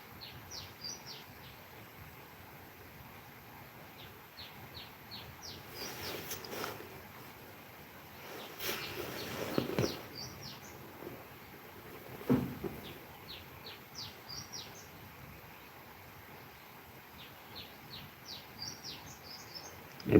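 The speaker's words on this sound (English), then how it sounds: "I believe you can also hear the birds singing." Small birds chirp and sing repeatedly in the distance in a village morning, over a quiet outdoor background, with occasional soft rustles and bumps.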